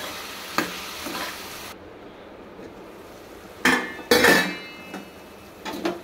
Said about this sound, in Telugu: ఆయిల్లో ముక్కలు అయితే బాగా ఫ్రై అవుతున్నాయి చక్కగా